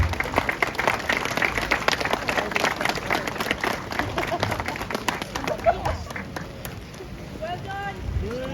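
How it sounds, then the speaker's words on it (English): A crowd applauds at a 2023 car show prize-giving for a Dockworks Twin Cam winner, the clapping thick and lively before thinning out, with voices talking over the tail end. "A big round of applause for this man here."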